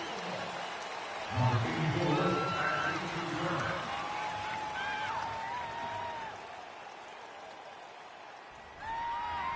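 A stadium crowd at a Buffalo Bills vs Miami Dolphins NFL football game makes a broad, sustained roar with some clapping, and a voice talks over it.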